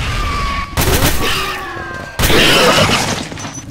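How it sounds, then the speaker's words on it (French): Bursts of distant gunfire crackle in the game S.T.A.L.K.E.R. with the Misery mod, with sharp shots and ringing tones over background ambience. "qui tire des coups de feu là plus haut"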